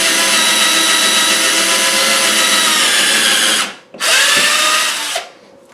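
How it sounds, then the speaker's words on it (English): A power drill bores a hole into a wooden wall stud for a TV mount, a loud steady whine that dips briefly, surges again and then cuts off. "I'm going to start by putting a hole in the stud with the drill bit"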